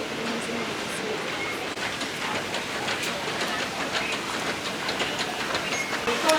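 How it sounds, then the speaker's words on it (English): Echoing London Underground station ambience: a train rumbling and clattering amid a busy hall, with scattered clicks and muffled crowd noise throughout. "Lonnie, we're in the train station."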